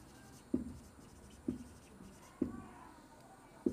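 Chalk or marker strokes on a classroom board during a maths lesson, faint scratchy taps recurring every second or so with quiet room tone between.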